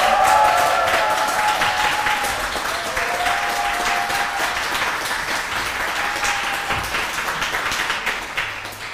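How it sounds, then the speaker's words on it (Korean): Sustained audience applause at the close of a humanities lecture and concert, a thick wash of many hands with a few sustained whistles or tones, gradually easing over nearly nine seconds. "마지막으로 다시 한번 큰"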